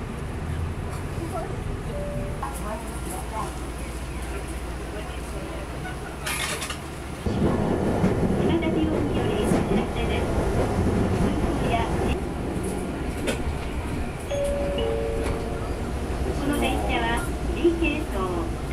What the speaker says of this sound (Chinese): 搭乘熊本市电 B 路线往上熊本方向